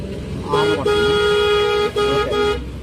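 A car horn sounds in a long steady blast in heavy traffic, breaks briefly, then honks again, loud over engine rumble.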